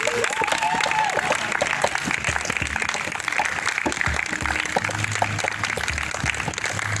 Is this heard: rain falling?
no